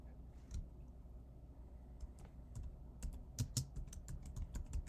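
Typing a project name on a computer keyboard: scattered keystrokes that turn into a quicker clatter of clicks over a soft background hum, close and fairly quiet, no talking.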